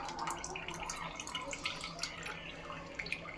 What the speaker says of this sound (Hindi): फिर उसको इसमें ठंडे पानी में ऐसा डुबाने का।